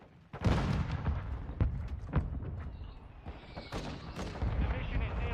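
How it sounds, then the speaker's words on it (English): Mortar strike explosions in Modern Warfare II, a series of sharp heavy blasts and booms scattered irregularly, with gunfire and battle noise between them. "mortar strike is inbound"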